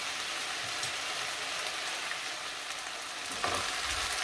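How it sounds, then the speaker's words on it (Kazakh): Cabbage frying in a pan before stewing, a constant close crackling sizzle with an even hiss and a brief louder stir near the end. "Жақсылап қуырылды."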